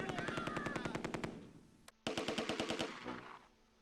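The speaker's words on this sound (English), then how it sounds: "Let's get this MG to open up on the armor crew." A machine gun fires at an armor crew in the WWII tactics game Close Combat II: two rapid bursts of sharp, evenly spaced shots separated by a brief pause.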